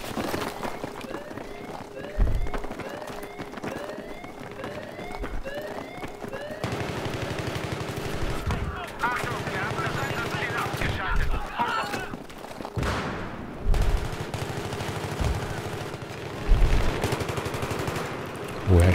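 Rapid automatic gunfire and scattered single shots crackle through a Battlefield 3 multiplayer match on Operation Metro, with bursts of varying distance, some loud nearby volleys, and a player talking at intervals.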